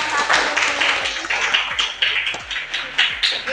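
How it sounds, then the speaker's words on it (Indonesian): Classroom applause for a student group, a short burst of sharp irregular hand claps from a small crowd, fairly close and loud, with no voices over it. "tepuk tangan untuk kelompok 1"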